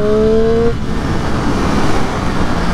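A Triumph Street Triple 765 RS motorcycle is ridden on the road, its engine a steady loud drone with a brief higher whine at the start that fades into continuous engine and wind roar.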